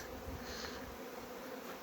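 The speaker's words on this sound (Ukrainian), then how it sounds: "Бджолиний дзвін чутний на всіх двох точках" A soft, continuous buzz of many honeybees flying from hives at the start of the season fills the air, steady and fairly faint, with no voices.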